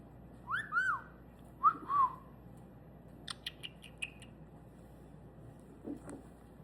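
A white-bellied caique parrot gives a few clear, close whistles, followed by some soft high chirps and scattered faint taps in a quiet room.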